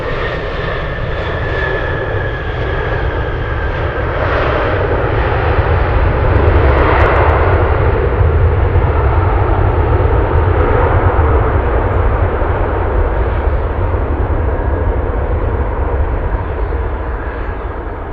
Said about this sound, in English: let's go for the Alaska flight from Seattle